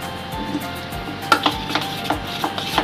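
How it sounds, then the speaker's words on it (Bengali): Thick suji and curd idli batter being stirred again in a pot, a run of soft close scraping strokes and light taps that grow more regular in the second half, with no voices. "ব্যাটারটা আমি আবার একটু মাখিয়ে নিচ্ছি।"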